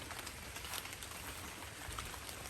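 Light drizzle falling outdoors while foraging for mushrooms, a faint continuous soft patter of fine rain with no talk.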